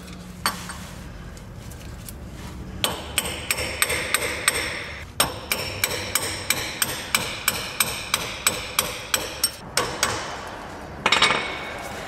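A hammer strikes a metal punch while working on the front axle of a 1997 Subaru Legacy, a steady run of about twenty sharp metallic blows at a close, even pace, following a short scrape and a pause.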